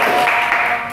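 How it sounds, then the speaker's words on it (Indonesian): A short burst of steady clapping from a talk show audience, loud and close, tapering off briefly at the end. "tepuk tangan dong semuanya."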